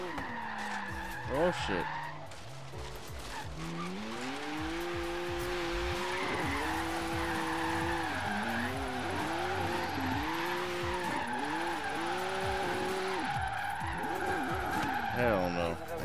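A BMW M2 drift build slides in a tandem drift in Forza Horizon 3, with long wavering tire squeal and a revving engine that rises and falls throughout. A man exclaims at the start, then the squeal continues alone.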